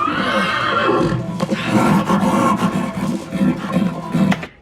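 A horse neighs loudly and close up in a long, wavering whinny, with some shuffling and clip-clop around it.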